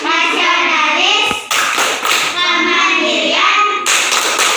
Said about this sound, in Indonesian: kita tepuk PPK dahulu ya. Tepuk PPK.